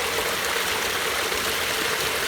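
A mountain stream on a trail near Flat Top Mountain at about 3,700 feet rushes steadily and close, a dense broadband wash of flowing water with no break and no voices.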